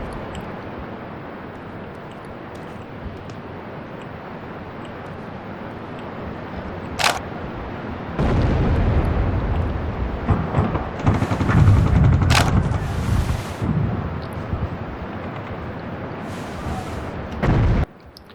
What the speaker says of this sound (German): Eine Granate.